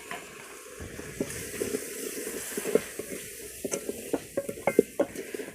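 Potatoes and moong dal fry in a pan with a soft sizzle while a spoon scrapes and knocks against the metal in irregular, increasingly frequent clicks and taps, all close by.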